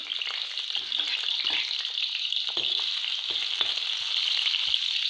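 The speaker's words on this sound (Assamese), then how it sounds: "তেলখিনি গৰম হোৱাত মই পিঁয়াজ দি দিছোঁ।" Onions sizzle and crackle in hot mustard oil, a dense continuous frying hiss with scattered pops and occasional stirring clicks, close and alone.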